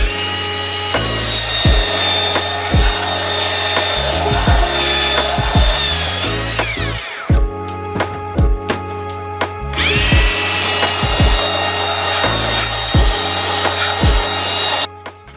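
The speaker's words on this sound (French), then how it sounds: "Place au ponçage." Sanding glued plies of recycled skateboard wood with a power tool: a loud, continuous abrasive whine with rhythmic rubbing strokes, a brief pause midway, then resuming.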